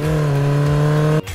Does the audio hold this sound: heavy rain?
no